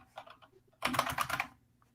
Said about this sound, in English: PS2 style keyboard for the Macintosh, and I bought one, and I type so much faster with this keyboard, but it's noisy.